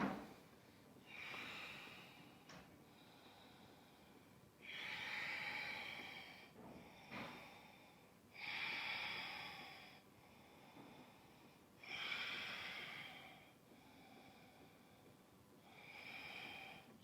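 Slow, deep breathing during an Ashtanga Vinyasa yoga class, each long breath rising and fading in a steady rhythm of roughly one every few seconds, close and quiet with no talking.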